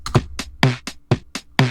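A light, short drum pattern with soft kick and snare hits alternating under steady ticking hi-hats, dry and close with an acoustic feel.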